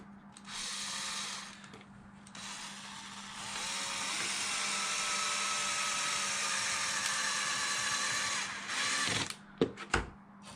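A power drill whirs steadily for several seconds while backing out the screws that hold the body onto a LOSI Super Baja Rey 2.0 RC car, with brief pauses and a few sharp clicks at the end.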